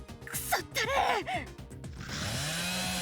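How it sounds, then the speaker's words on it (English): Chainsaw motor in a dramatized story, starting with sputtering bursts then settling into a steady, rising whine, moderately loud, with breathy vocal gasps mixed in early. "The chainsaw's superconducting motor starts roaring an octave higher."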